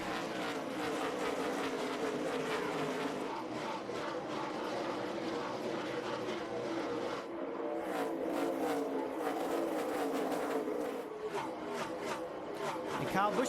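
NASCAR Busch Series stock cars accelerating on a restart at Bristol, a dense, steady engine roar from a pack of cars that swells as they come through, with a commentator talking over it.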